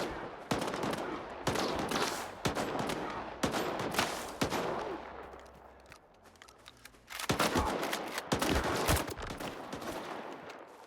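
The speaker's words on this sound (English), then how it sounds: "For a second, I thought you guys were shooting at somebody important." Automatic gunfire rattles in STALKER, with repeated loud bursts of rapid shots separated by short gaps and a quieter lull midway before the shooting resumes.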